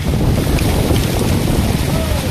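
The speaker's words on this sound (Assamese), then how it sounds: "এই বেলেগ চাক এই বতাহ, ধূলিয়ে ধূলি" Strong, dusty wind roars steadily and close in Kaziranga, Assam, buffeting the microphone with a constant low rumble throughout.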